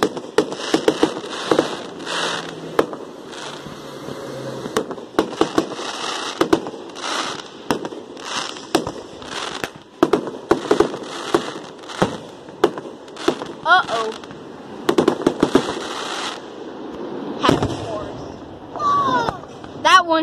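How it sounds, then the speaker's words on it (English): Fourth of July fireworks pop and crackle continuously, with sharp bangs and rapid crackling bursts throughout, some close and loud, others more distant. "more fireworks set off"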